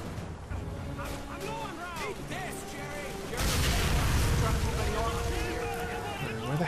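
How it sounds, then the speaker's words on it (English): Explosions rumble in a Call of Duty 3 battle, a broad roar swelling louder midway and holding steady, mixed with game music and effects while someone talks over it. "What is exploding out there?"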